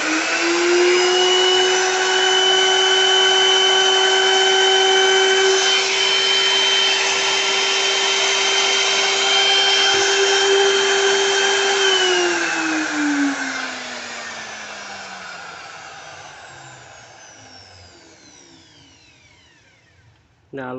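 A BULL BL2601 wood router runs with a loud, steady electric whine and a low hum, holding constant for about twelve seconds before switching off and winding down to a fading spin, with a faint knock at the very end.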